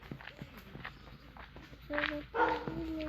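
A dog nearby gives a few short whimpers and soft barks among footsteps and light movement, with a person speaking briefly.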